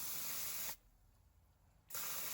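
Two hissing bursts of spray, one long and one shorter, with a quiet pause between them, close and fairly loud.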